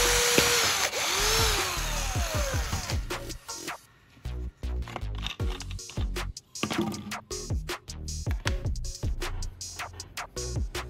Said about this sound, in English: I'll drill a tiny hole in the bottle cap